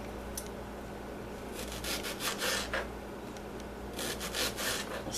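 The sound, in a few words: knife thinly slicing an onion into strings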